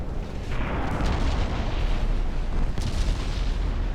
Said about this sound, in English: Another torpedo.